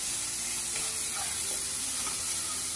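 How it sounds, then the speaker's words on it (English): Carrots and mixed vegetables sautéing on a high gas flame for street-style masala Maggi, a steady close sizzle and hiss throughout with faint stirring, no talking. "Our gas is on high flame now and we'll saute this for 1 minute."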